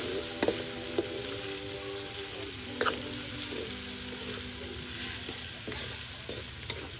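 Pork blood poured into a Filipino dinuguan stew in a pan: a quiet simmering bubble and steady stirring, with a few sharp scrapes of the spoon against the pan and a faint hum behind.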